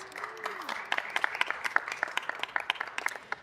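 An audience applauds at a city council meeting, with steady, fairly close hand clapping that carries on for several seconds after a brief low tone at the start.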